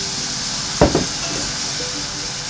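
Water poured into a hot pan with chillies bursts into one loud, close sizzling hiss that flares briefly and then settles into a steady steam hiss.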